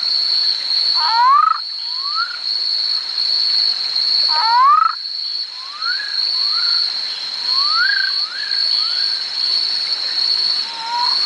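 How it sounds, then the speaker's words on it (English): Frogs calling like birds, repeated rising chirpy whistles in short clusters across the clip, clear and close over a constant high insect-like drone. "And you have frogs which call like birds."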